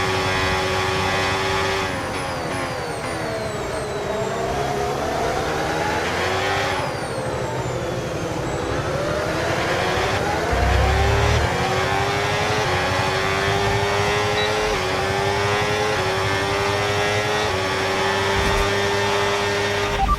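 F1 race car engine in a video game, accelerating hard in overtake mode with hybrid boost at Silverstone, a sustained high rising engine note with pitch sweeps across gear changes, loud and continuous.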